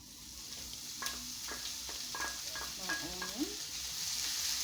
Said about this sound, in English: So my oil is ready. I add my onions.